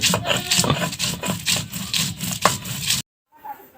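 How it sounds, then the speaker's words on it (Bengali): Ginger and garlic are ground into a paste with rhythmic, close rubbing and scraping strokes that stop abruptly near the end. "প্রথমে আমি আদা আর রসুনগুলো বেটে নেব।"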